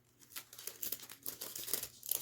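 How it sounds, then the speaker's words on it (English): Holographic clear sticker film being peeled, giving quiet, close crinkling and tearing crackles in irregular bursts. "I'm going to peel the rest of this off."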